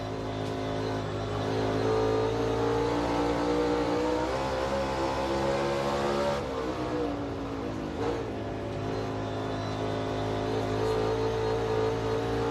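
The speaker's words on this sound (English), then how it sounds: "if the car's tight, that's where you hear him rev it up a little bit" A NASCAR Cup Series race car on the Bristol dirt track drones continuously, its engine note rising and falling as the throttle is worked in repeated revving surges, loud and close throughout.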